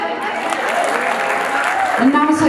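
An audience claps at a live show, a broad wash of applause that stays strong and steady, with a voice and other sounds mixed in near the end.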